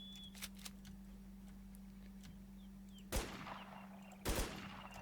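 AK-74M Elite gunfire in a video game, two short, sharp bursts about a second apart, loud against an otherwise quiet, humming background.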